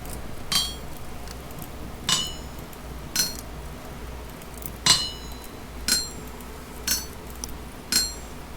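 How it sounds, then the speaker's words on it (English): In the Vintage Story video game, a hammer strikes metal ingots on an anvil, ringing out as eight sharp metallic clinks at a steady, slightly uneven pace over a quiet background. "It's plenty of hammering."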